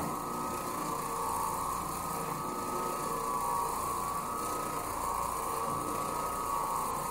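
An Oreck Orbiter floor machine scrubs badly soiled carpet with a steady, loud mechanical whir and grinding hum that holds evenly throughout, no talk over it.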